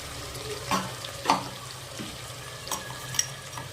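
A ground paste of ginger, garlic, onion, tomato, whole spices and coriander fries in hot oil with a loud, crackling sizzle. Stirring scrapes and knocks come in irregular bursts, close by and without speech.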